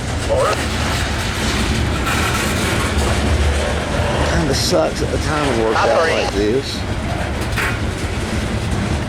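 A CSX coal freight train hauled by ES44 locomotives creeps slowly past up close, giving a continuous heavy rumble with clanks and wheel squeals, while someone talks over it.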